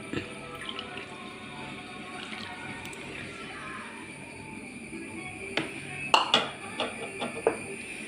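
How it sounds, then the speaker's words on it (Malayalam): Melted jaggery syrup pours into jackfruit seed paste for halwa, a soft liquid trickle over a faint hum, followed by a few clinks and knocks of a vessel and utensil. "ഇതിൻ്റെ കൂടെ തന്നെ ഞാൻ ഈ ശർക്കര നീര് ഒഴിച്ച് കൊടുക്കുന്നുണ്ട്."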